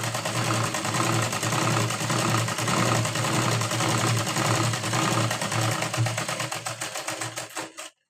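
A sewing machine runs steadily as it stitches a blouse sleeve, a loud, fast, even mechanical whirr with rapid needle clatter close by, slowing and stopping abruptly at the end.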